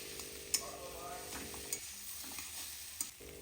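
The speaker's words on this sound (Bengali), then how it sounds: "সেই সবজিগুলো আবার এগের সাথে আরেকবার করে একটু ফ্রাই করে নিচ্ছি" Vegetables fried with egg in a pan for Hakka noodles make a faint, steady sizzle, with a few sharp clinks of a spatula against the pan spaced apart and no speech.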